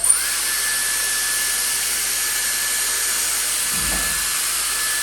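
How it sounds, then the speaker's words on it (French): A Dyson Airstrait hair straightener-dryer blows a continuous, loud, close airflow with a high-pitched motor whine and no pauses, and a faint low bump comes partway through. "je vais faire le lisseur. C'est parti. Première mèche."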